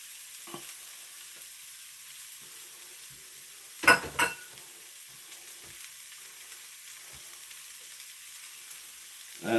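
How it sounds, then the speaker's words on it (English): Onions frying in a pan for a steak and Stilton pie, about three medium onions: steady soft sizzling hiss throughout, with a couple of louder clattery stirring bursts near the middle and a few small knocks, no talking. "I'm going to go in with my onion."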